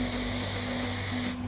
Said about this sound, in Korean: 한 45도 정도 틀어서 뿌리면은 이 반대쪽은 묻지 않고 이 안쪽으로 좀 스프레이들이 전체적으로 분사가 되기 때문에